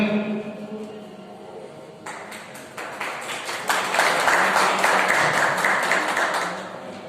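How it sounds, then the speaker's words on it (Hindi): An audience at a student honours ceremony breaks into applause, the clapping starting sparse and growing into dense, sustained clapping that swells toward the end. "हम ताली बजाकर"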